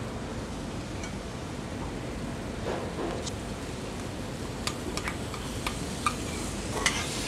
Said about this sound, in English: So once any meat goes in, just start stirring it firmly